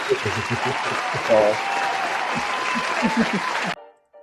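Recorded applause sound effect played during a 1K celebration livestream: steady clapping with a crowd roar over talk in the background, running about three and a half seconds before cutting off abruptly.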